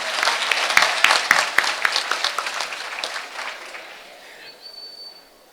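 Graduation audience applauds, a dense burst of clapping with sharp individual claps up front that gradually thins and fades to near silence.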